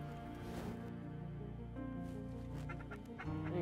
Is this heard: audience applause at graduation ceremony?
no